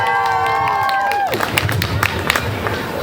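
A live stage-show crowd breaks into clapping and cheering after a sustained held tone cuts off, the applause dense and lively with scattered whoops.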